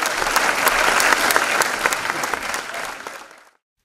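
A theatre audience gives thunderous applause, a full and dense round of clapping that holds steady and then fades out toward the end.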